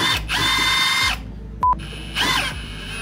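An impact wrench zips a strut nut off a Honda suspension strut in two hammering bursts a second apart, with a short beep between them in a quiet garage.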